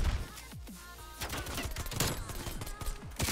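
Gunfire in the video game Call of Duty: Black Ops Cold War: a sharp shot or two, then a dense run of rapid, overlapping cracks and bursts that continues to the end.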